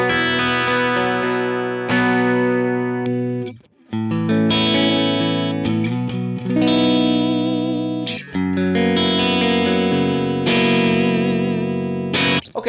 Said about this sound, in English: This is the free Mix Berlin AC30, and you've got to check this thing out.